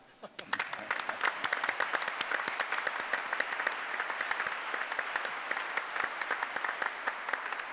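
An audience at a chief justice's investiture breaks into steady applause, many hands clapping at once, building quickly and holding at an even level throughout.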